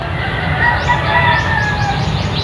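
A brooding hen sitting on nine eggs gives soft, close clucks and low grumbling calls over a faint steady background hum, with a few rising chirpy notes.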